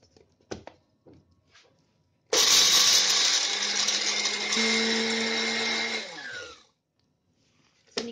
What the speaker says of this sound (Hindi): अब इसको हम ग्राइंड कर लेंगे।